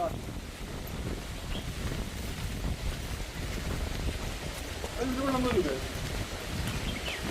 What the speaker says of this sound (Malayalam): നല്ല കാറ്റുണ്ടല്ലേ ഇത്.